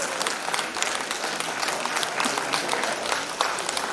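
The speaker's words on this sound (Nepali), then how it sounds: "हजुरले जोरदार तालीको साथमा उहाँलाई स्वागत गरिदिनुहोस्" An audience at a Sikkim Krantikari Morcha coordination meeting in Namcheybong claps steadily to welcome a guest, a dense, even round of applause heard at moderate distance.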